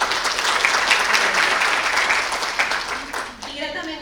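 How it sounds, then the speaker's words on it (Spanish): An audience at an academic ethics event in a lecture hall claps in a sustained round of applause that fades toward the end. "Un aplauso para la doctora."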